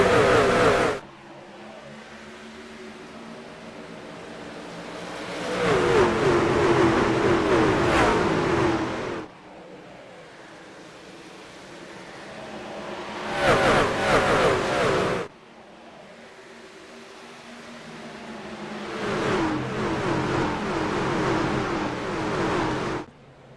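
Race trucks in the iRacing game roar back up to speed at Darlington after a restart, engine drone swelling and fading in repeated waves as the pack accelerates and passes.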